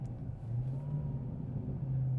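A 2023 Dodge Challenger SRT Demon 170 with its 1,025-horsepower engine downshifts, a close, deep, steady rumble that holds a low drone and swells slightly near the end.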